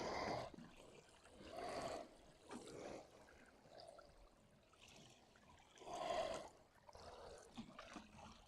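Water poured from a can onto garden soil in June, arriving in several short splashing bursts with quiet gaps between them, close by and moderately loud.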